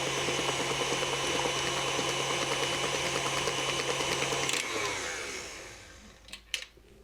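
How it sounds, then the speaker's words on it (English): An electric mixer whirs steadily through cheesecake batter with a wet churning texture, then shuts off and winds down, followed by a couple of light knocks against the bowl. "We mix and scrape the bowl again."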